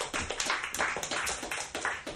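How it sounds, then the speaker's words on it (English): An audience claps for a guest coming on stage at a small live show: fairly close, brisk applause from a modest crowd with uneven rhythmic peaks over about two seconds. "Everyone, clap for Carta"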